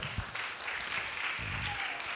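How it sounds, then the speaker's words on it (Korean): A church congregation at an all-generations joint service claps for a child, a brief moderate burst of applause that holds steady for a couple of seconds. "우리 대답을 잘해준 시우한테 박수 한번 해주세요"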